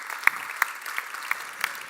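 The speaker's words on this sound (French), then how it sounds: "une bonne main d'applaudissement pour" Applause at a hospital foundation day event: a brief, fairly faint patter of clapping with a few sharper, louder claps standing out from a soft crowd background.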